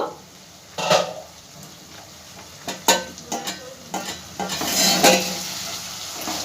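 Spiced masala and tomatoes fry in a pan on a gas stove, with a steady low sizzle broken by several sharp utensil scrapes and clinks against the pan during stirring.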